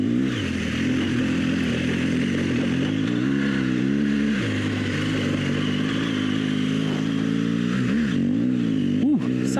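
An adventure motorcycle on Michelin Anakee tires rides a rutted dirt section, its engine droning steadily close by, with the pitch sagging and rising as the throttle is rolled off and reapplied. Brief revs come near the end.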